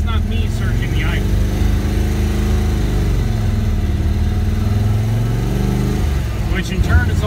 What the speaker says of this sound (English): I gotta hold it like 1500 RPM, keep it running. And it will surge idle the entire time.